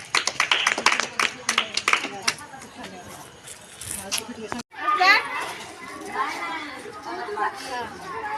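Children clap for an aunt, a quick run of sharp, close claps over lively chatter. It breaks off briefly, and then voices and talk carry on.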